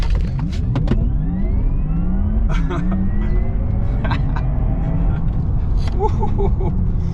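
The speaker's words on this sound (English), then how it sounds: "put your left foot on the brake, gas it up all the way, and just let go" A Porsche Taycan Turbo surges through a full-power launch control start, its electric drivetrain whining in a rising sweep over a low road rumble, heard from inside the cabin with passengers talking and exclaiming throughout.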